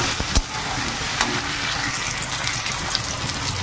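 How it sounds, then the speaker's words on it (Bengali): Chopped tomatoes frying in a pan make a continuous close sizzle with wet, watery crackle and a few sharp pops and spatters. "এবার টমেটোগুলোকেও একটু ভেজে নেব।"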